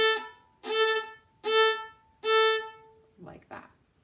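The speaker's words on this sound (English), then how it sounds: "But you can hear that there's a stop in between each note." Stopped, hooked bowing on a bowed string instrument: four sustained, separated notes of the same pitch with clear gaps between them, played close and moderately loud, followed by two short, softer scratchy strokes.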